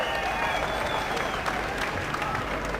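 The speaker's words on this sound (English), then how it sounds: "And a round of applause for Mac, who's been working hard for the last 2 years," Rally crowd applauds for Mac, the rally organiser, a loud, continuous burst of clapping and crowd noise that holds steady throughout.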